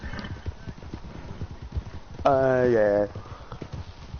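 Horse hooves clip-clop at a steady gallop in Red Dead Redemption 2, with a horse's whinny rising over them midway while a voice speaks briefly.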